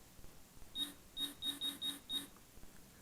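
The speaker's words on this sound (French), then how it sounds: "j'ai un bip de centrage sur les gaz" Six short, faint electronic beeps in a quick, slightly uneven series, heard alone in a quiet room.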